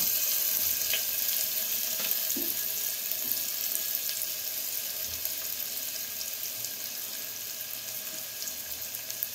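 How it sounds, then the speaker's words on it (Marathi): Chopped onion sautéing in a spoonful of oil inside a pressure cooker for kharda chicken gives a steady, continuous sizzle throughout, without talk. "कांदा व्यवस्थित परतून घेऊया।"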